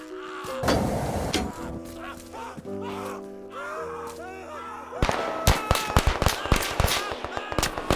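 French machine gun firing in the trench-warfare game Trench War, with rapid cracking bursts and scattered blasts over game sounds and a tonal musical bed, growing denser and louder toward the end.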